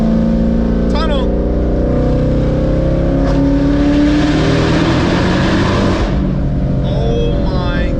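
Heavily modified 1000 wheel-horsepower Ford GT500 V8 engine revving loud and close inside a tunnel, a sustained droning roar that swells mid-clip, with people's voices cutting in briefly over it.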